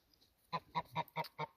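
A Toulouse goose honks five times in quick, evenly spaced calls, close and fairly loud, after a couple of faint softer sounds.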